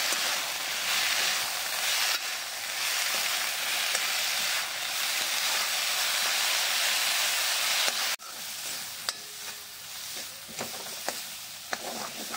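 Rosella leaves fry in a pan for a fish curry, a loud continuous hissing sizzle that cuts off abruptly partway, leaving quieter sizzling broken by sharp clicks and scrapes of stirring, with no talking.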